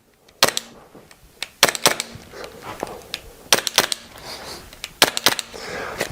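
A Cool Fire Trainer dry-fire pistol cycling with simulated recoil, a run of sharp loud snapping cracks in quick pairs and clusters with brief gaps between, close-up, with faint background hiss and no talking.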